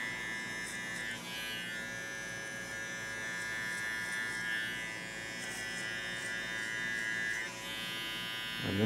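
Electric hair clippers fitted with a number 2 guard buzz steadily and close while cutting a child's hair in a traditional boys' cut, a continuous hum that shifts slightly in pitch as the clippers move.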